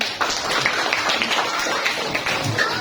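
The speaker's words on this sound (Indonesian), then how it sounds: "Tepuk tangan." Children clap their hands at a Friday morning school religious gathering, a close, continuous scatter of many small claps with faint voices underneath.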